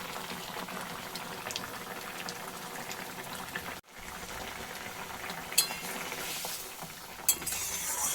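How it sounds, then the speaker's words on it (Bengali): Bengali omelette curry gravy simmering and bubbling in a pan, a steady busy boil with a brief break midway and a couple of sharp clinks near the end. "এখন একটু ফুটিয়ে নেব যাতে অমলেটের ভেতরেও মশলাগুলো ঢুকে যায়"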